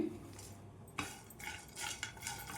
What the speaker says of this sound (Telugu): ఒక రెమ్మ కరివేపాకు వేసుకొని ఇదైతే మంచిగా వేయించుకున్నాం